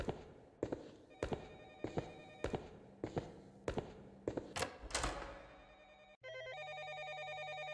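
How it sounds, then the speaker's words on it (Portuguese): A telephone rings in the game Condominium, a series of bell-like rings with sharp onsets repeating roughly every half second to second, followed by a steady electronic tone, faint overall. "Tem um telefone tocando."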